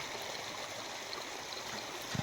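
A small waterfall and a flowing stream beside farm fields make a steady, dense rush of water that runs continuously and evenly, with a few low thumps at the very end.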